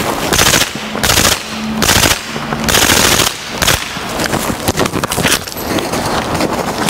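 German-made full-automatic MP5 submachine gun fired in bursts on a shooting range, loud close rapid rattling volleys separated by short pauses, then scattered shots and echoing bangs.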